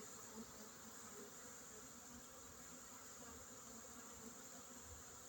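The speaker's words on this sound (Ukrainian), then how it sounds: "Дуже добре літають." Honeybees fly out of their hives on a winter cleansing flight, a continuous faint buzzing swarm drone heard steadily throughout, with no talk.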